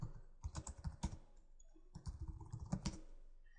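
Quick bursts of keystrokes on a computer keyboard as a password is typed, two clusters of rapid close clicks separated by a short pause, with no talk.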